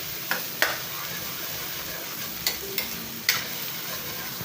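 Ground black pepper sautés with garlic and onion for a monggo bean guisado. A soft, steady sizzle is broken by a handful of sharp utensil clicks.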